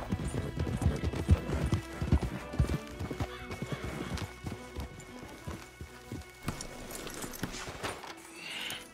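Horses in Red Dead Redemption 2 clip-clop along in a steady, close gait with a whinny breaking through, hoof beats thudding loudly in uneven clusters before trailing off near the end.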